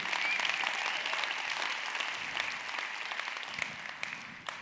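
An audience applauds, a dense steady clapping that stays loud and fades slightly toward the end, with no talk over it.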